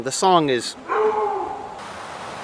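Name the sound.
dog barking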